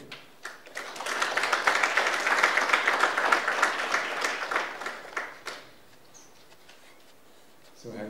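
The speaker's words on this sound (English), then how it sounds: "they deserve a round of applause" Audience applause at a building's grand opening swells quickly into a dense round of clapping, holds for several seconds, then thins to scattered claps and fades to near quiet before a voice comes in at the end.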